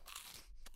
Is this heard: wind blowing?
no